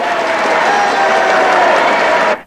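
Dense, loud applause at a press appearance, a continuous wash of many hands clapping that stops abruptly at the end.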